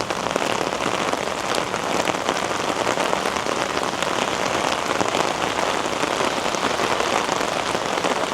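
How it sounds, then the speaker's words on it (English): A heavy downpour in downtown Toronto hammers steadily on surfaces, a loud, dense, unbroken hiss of rain that stays constant throughout with no voices. "this is the heaviest downpour I've been out recording in"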